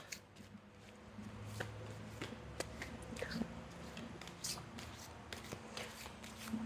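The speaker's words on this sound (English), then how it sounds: "Just let me do a couple more shuffles here." Close, crisp riffling and slapping of tarot cards being shuffled repeatedly, with soft tapping between passes and faint background hum.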